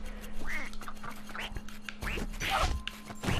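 Cartoonish duck quacks from the video game Rayman Legends repeat in short, bright bursts against a busy game soundtrack with a steady hum, fairly close and loud.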